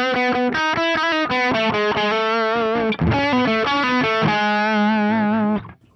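Electric guitar run through a Fender Pugilist distortion pedal with both channels blended, playing a quick series of thick, sustained distorted notes and chords, loud and upfront with no talking.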